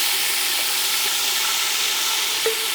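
Roasted spices sizzle steadily in a hot pan as a tomato and yogurt paste is added, a close, even hiss with faint crackles and no talking.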